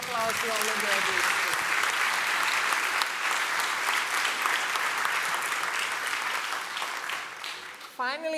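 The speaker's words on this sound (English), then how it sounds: "Give a big hand of applause to all the graduates." Sustained loud applause from a large audience at a 2019 graduation ceremony, greeting the graduates after a name roll call, steady broadband clapping filling the hall for about eight seconds before a voice resumes at the end.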